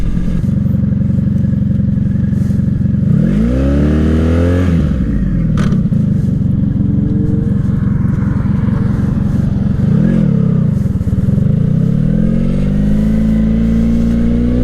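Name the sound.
motorcycle engine running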